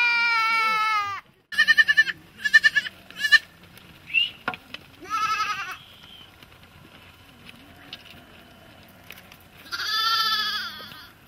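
A Himba herd of goats bleating, with several separate wavering calls that come near and loud. Quieter patter and short gaps fall between them, and no talk is heard.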